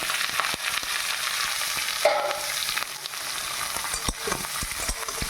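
Boiled soybeans and onion frying in a pan, a steady bright sizzle with scraping stir strokes at intervals, close and continuous with no talking.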